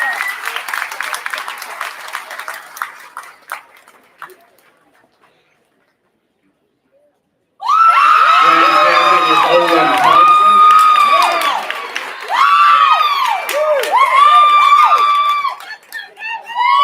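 A crowd at a county fair livestock market judging bursts into loud, sustained applause and cheering after a stretch of near silence, with earlier scattered clapping and talk fading out before the burst.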